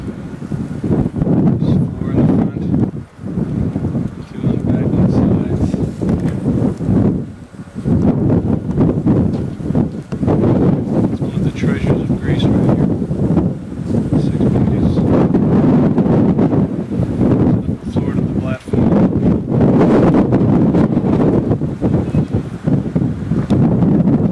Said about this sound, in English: The wind is kicking up again.